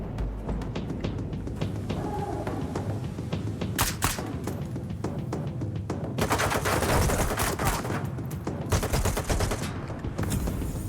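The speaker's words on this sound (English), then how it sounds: "Where the fudge are you shooting us from?" Sustained enemy gunfire during a firefight in S.T.A.L.K.E.R. 2: Heart of Chornobyl, a dense rattle of automatic shots and sharp cracks that keeps going for the whole stretch and grows heavier in the second half.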